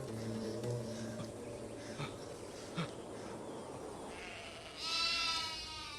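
Sheep bleat in a rural outdoor setting, a few wavering calls at moderate distance over a steady background hiss, with a brighter burst toward the end.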